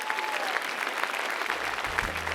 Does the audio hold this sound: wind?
no